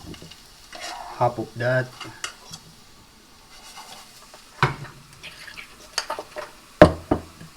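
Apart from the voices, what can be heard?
cooked potato frying and stirred in a pan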